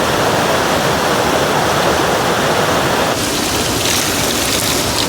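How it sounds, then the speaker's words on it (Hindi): Rushing water of the Uttarvahini river, a loud unbroken roar of flowing current heard up close, its texture shifting slightly partway through. "उत्तरवाहिनी नदी की कल कल करती हुई धाराएं आगे बढ़ रही हैं"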